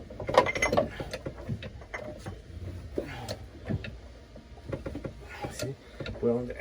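Hydraulic jack pumped by hand to tension and tune a carbon mast: a few close mechanical clicks and ratcheting strokes, heard under ongoing conversation.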